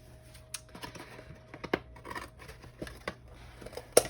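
Scissors snip through a pleated drink box, several short crisp cuts spaced irregularly, fairly quiet and close, with a sharper snip near the end.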